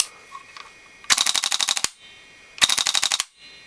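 Two rapid bursts of full-auto fire from a Daytonagun AKS74U airsoft gun in an LCT AKS74U kit, each a quick string of sharp cracks lasting under a second, close and loud with a short gap between.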